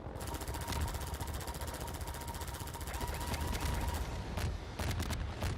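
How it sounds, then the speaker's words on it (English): Dense, continuous video-game gunfire with rapid repeated shots and blasts, loud and sustained throughout with a few sharp bursts near the end, no talking over it. "So like 14 explosions."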